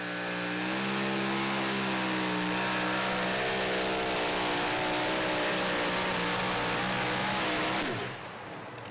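A two-wheel-drive super modified pulling truck drags a sled down the track at a Pro Pulling League event in Saluda, SC, its engine a loud, sustained high-revving roar with rising harmonics that cuts off abruptly near the end.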